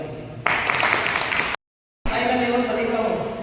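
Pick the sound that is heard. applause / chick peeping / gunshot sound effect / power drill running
applause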